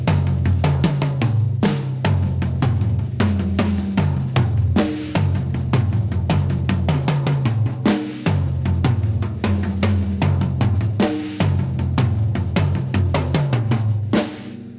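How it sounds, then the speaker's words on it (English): Drummer plays a steady 16th or 8th note ride pattern on a floor tom with periodic tom accents cutting through, a close, loud, continuous rhythmic groove with no voices. "I'm playing a 16th or 8th note ride on the floor tom"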